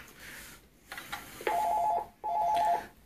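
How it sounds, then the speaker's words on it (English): Ring signal on a line through an operator phone connected to a 1915 candlestick telephone, two steady electronic ringing bursts about half a second each with a short gap, preceded by faint clicks, in a quiet room. "So as soon as he goes off hook, it'll ring this phone."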